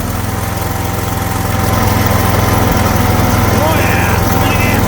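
A garden tractor's small engine runs continuously close by with a steady, buzzing drone and a slight rise in pitch partway through. The tractor has a fuel leak.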